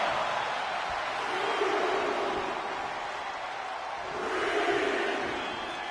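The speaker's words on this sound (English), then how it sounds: "Orton's starting to get the crowd involved." Wrestling arena crowd in WWE 2K24 roaring as a steady, broad wash of cheering that swells louder near the end, heard at a moderate distance.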